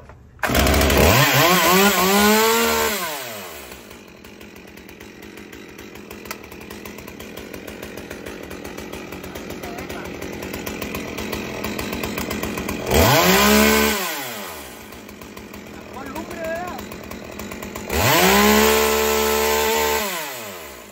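A chainsaw cutting wood revs up loudly three times, near the start, midway and toward the end, idling with a lower rattling drone between the bursts.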